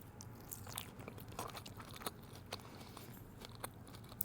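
Crunchy California maki sushi roll topped with fried onions being eaten up close, with steady crisp bites and wet chewing that continue throughout, no talking.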